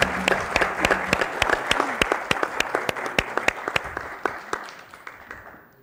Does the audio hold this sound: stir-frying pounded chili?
no